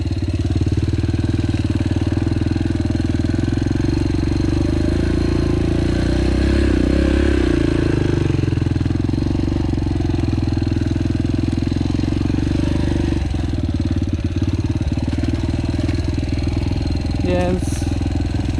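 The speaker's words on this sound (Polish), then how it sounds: "w wydechu o to chodzi, żeby nie stracić mocy, ale żeby był cichy motocykl" A Yamaha TTR 125L dirt bike engine runs steadily through its exhaust, a loud close rumbling drone that swells briefly midway, with a voice talking over it.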